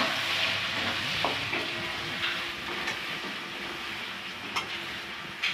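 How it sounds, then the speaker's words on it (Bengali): Finely chopped onions fry in oil with garlic in a pan as a steady, even hiss, with a few soft knocks of stirring now and then. "আমার পেঁয়াজটা মোটামুটি ভাজা হয়ে এসছে, লাল হয়ে এসছে"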